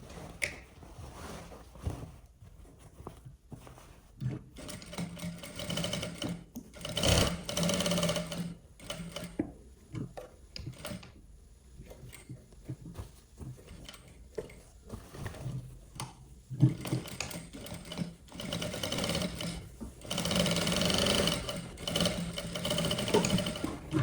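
A sewing machine stitches a loose top, running in steady bursts of rapid mechanical chatter that start, pause and resume over the whole stretch, fairly close with no talking.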